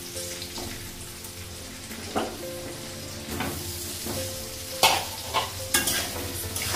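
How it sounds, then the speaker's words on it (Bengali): Potatoes sizzle in hot oil in a pan while being stirred, with repeated scraping and clattering strokes over a steady close frying hiss. "আলুটা ভেজে নেব, কারণ মশলাটা রাখবো।"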